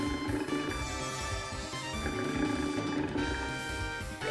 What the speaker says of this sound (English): they can also roar and buff themselves